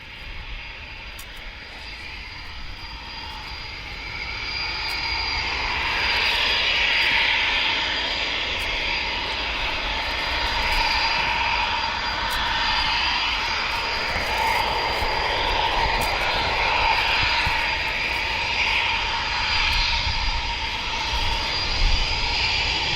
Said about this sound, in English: Another 2 typhoons heading our way.